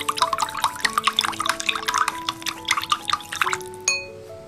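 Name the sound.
stirring seasoning mixed with water and sesame oil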